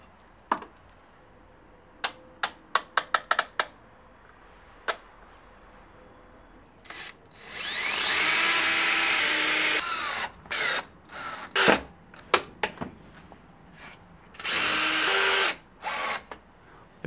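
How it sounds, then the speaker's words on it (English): Power drill pre-drilling and countersinking screw holes in wood for a French cleat module, with two sustained whining runs of the bit between scattered sharp clicks and knocks of handling. "of course first of all pre-drill so that the screws do not tear out anything and lay exactly in the middle and in a line"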